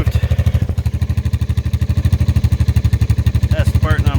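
Badger 80cc motorbike idling with the silencer core removed from its exhaust, a loud, close, rapid steady putter of pulses throughout, with a brief voice near the end.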